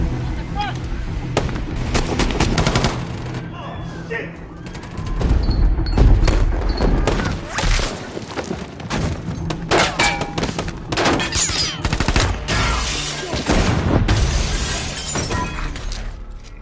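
Rapid automatic gunfire in a police-versus-robbers action film, dense bursts with booms and shattering impacts layered over a busy soundtrack, loud and continuous throughout.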